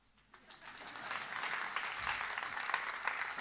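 Audience applause at a talk on hiring junior developers, building quickly from a faint start into steady, dense clapping that holds for several seconds in a hall.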